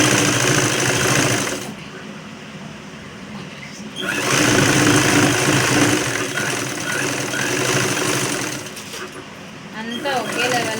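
Sewing machine stitching a lined blouse: a loud, close, continuous mechanical whir in two long runs separated by a brief pause, with a person talking softly alongside.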